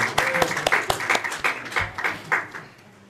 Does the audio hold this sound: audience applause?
yes